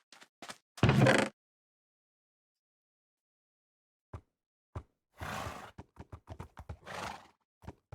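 A Minecraft horse in a video game: a loud neigh near the start, then after a long silence scattered hoofbeat clip-clops and another whinny, sharp and close with gaps between sounds.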